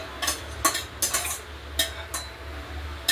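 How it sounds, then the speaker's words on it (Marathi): Dry fruits roasting in a pan on the stove while a spoon stirs them, giving a run of about six short, close scraping and clinking strokes against the metal over a low steady hum. "ड्रायफ्रूट थोडेसे हलके सोनेरी होईपर्यंत भाजून घ्यायचे।"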